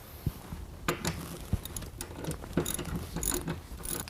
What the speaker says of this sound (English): After you've removed the 4 bolts from the bottom of the seat with your Torx T50